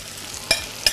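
Melted tomato paste sizzles steadily in a pot on a lowered stove, with two sharp clinks of a utensil stirring it. No one speaks.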